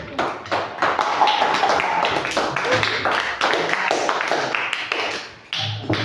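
Classroom students applauding for a classmate named Arif, a dense patter of many hands clapping close by that runs steadily for several seconds, with a brief dip before resuming.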